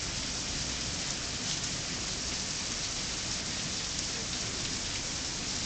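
Heavy rain pours steadily in a dense, continuous hiss during a thunderstorm, with no voices or other sounds rising above it.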